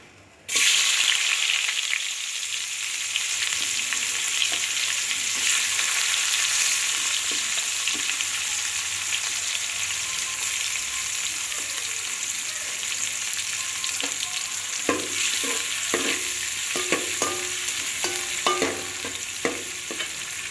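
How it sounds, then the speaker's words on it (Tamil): Onion fries in hot oil for sambar, starting with a sudden loud sizzle that holds steady for about twenty seconds, with a few scraping stirs near the end and no talk. "அடுத்து வெங்காயம் சேர்க்கலாம்."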